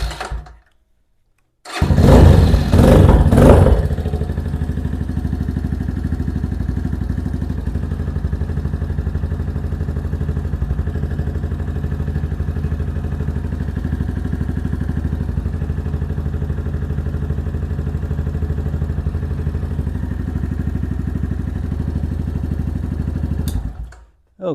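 A Venom Ghost Chopper 250 motorcycle cranks and fires up after an oil change, a brief loud starting burst settling into a steady, even idle that runs close by for about twenty seconds before cutting off.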